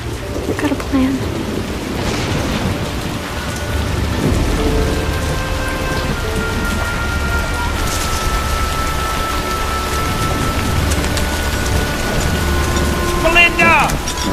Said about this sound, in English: Stay here till the rain stops.